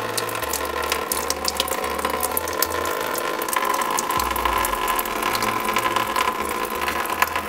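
Liquid drips out from beneath a car in a steady, wet trickle and patter, heard close up over a constant mechanical hum and rushing background noise, with no voices.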